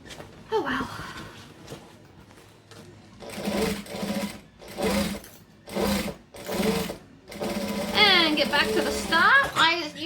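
Close-up sewing machine stitches a camera bag in several short bursts, whirring in quick runs with pauses between as it stitches a few stitches and then backstitches, with faint talk early on.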